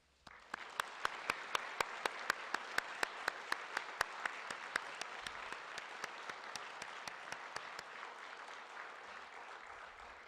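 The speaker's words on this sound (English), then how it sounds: "please join in a round of applause to recognize our graduates, our guests, and the mentors who supported you" An audience at a graduation ceremony gives a steady round of applause, dense clapping with a few sharp, regularly spaced claps standing out, sustained for about ten seconds.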